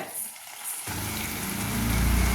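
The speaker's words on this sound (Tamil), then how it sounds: "கிரேவி இந்த பக்கம் நல்லா கொதிக்கிட்டோம்." A pan of egg curry gravy sizzles and bubbles after a sudden start, the simmer growing louder and busier over a couple of seconds.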